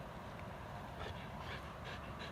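A dog pants in quick, rhythmic breaths over a steady wash of low background noise, quiet and close.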